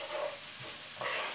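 Mild chili pepper mixture being stirred in a frying pan gives a soft sizzle with a couple of scraping strokes, the second swell arriving near the end, close but fairly quiet.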